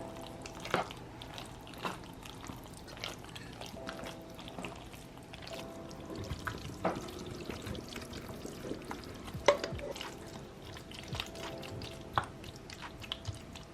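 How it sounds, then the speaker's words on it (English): Cheese sauce being poured over macaroni noodles and stirred in, giving soft, wet squelching and clinking with scattered sharper knocks, close and fairly quiet throughout, with no talking. "you want to take and pour the cheese sauce into those noodles. Just gonna mix that up."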